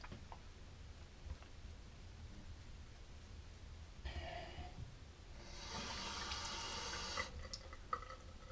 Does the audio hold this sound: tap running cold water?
yes